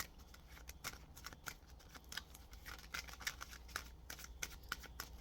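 Tarot cards are shuffled and handled in a quick run of crisp, papery flicks and snaps, close and fairly quiet, with a steady faint hum underneath and no talking.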